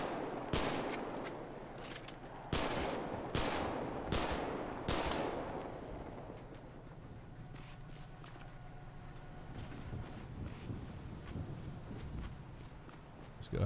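Video game gunfire: four or five sharp, loud shots spaced about a second apart, then a quieter stretch of faint background game sounds.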